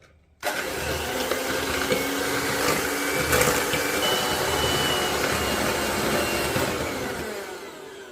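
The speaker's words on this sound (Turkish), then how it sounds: "Üzerine bir su bardağı şekerimizi alalım ve bunu şimdi güzelce köpük köpük olana kadar çırpalım." An electric mixer whisks eggs and sugar in a bowl until foamy for a yogurt dessert. It starts abruptly and keeps up a loud, steady whirring hum for several seconds before easing off slightly.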